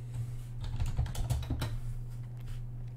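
A command is typed on a computer keyboard, a quick run of close, crisp key clicks that bunch in the middle and then stop, with a faint hum underneath.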